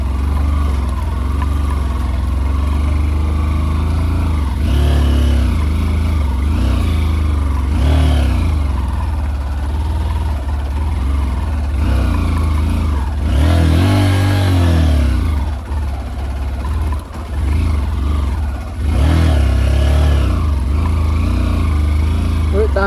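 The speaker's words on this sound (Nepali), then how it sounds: "डबल लोड चाहिँ तानिरहेको छ मेरो बाइकले" Motorcycle engine laboring under a double load on a rocky, icy road near a high-altitude frozen lake, a loud continuous drone with surging revs throughout, close to the rider.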